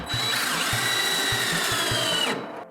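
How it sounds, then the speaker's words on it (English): Power drill boring a hole into a cabinet door panel during hinge installation, a loud continuous whine held for about two seconds over rhythmic low thumps, then cutting off abruptly. "you need to drill a hole in the panel at the appropriate location"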